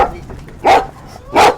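A dog barks twice, about half a second apart, each bark loud and fairly close against a quiet outdoor background near a gate.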